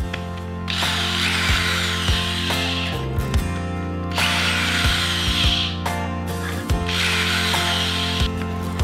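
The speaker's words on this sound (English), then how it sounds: "Right now what I'm doing is unscrewing all these little battery management system chip things." Power drill backing screws out of small battery management system boards on an electric go-kart build, with steady loud motor whine broken by short bursts and pauses and ratcheting clicks between.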